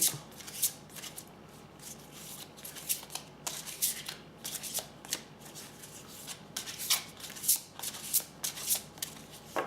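A deck of fairy tarot cards being shuffled by hand, a quiet run of rapid papery riffles and flicks coming in repeated bursts with short pauses between, with no talking.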